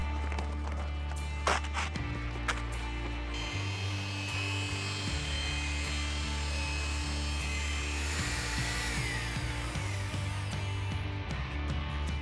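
A handheld power mixer churns tile adhesive powder with water in a mixing tub, its motor whirring loudly and shifting in pitch as the load changes, with a few knocks against the container.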